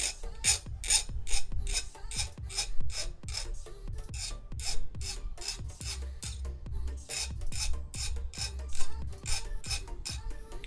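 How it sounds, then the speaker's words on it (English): A hand file cuts a chamfer on the edge of a steel rod in quick, evenly spaced rasping strokes, each with a dull knock underneath, close up and continuous for about ten seconds. "It's filing not too bad."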